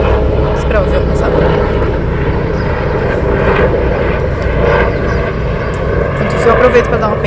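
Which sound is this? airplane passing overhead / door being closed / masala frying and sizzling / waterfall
airplane passing overhead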